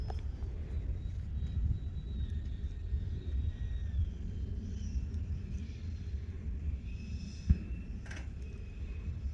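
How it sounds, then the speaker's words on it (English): Freewing F9F Cougar RC model jet coming in on a downwind landing at a flying field, a steady low rumble with faint whining turbine tones high above, plus a brief sharp bump near the end. "So now we're just going to do a downwind landing because the wind switched again."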